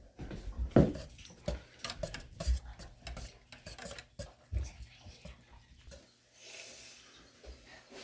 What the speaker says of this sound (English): Now I'm going to mix these together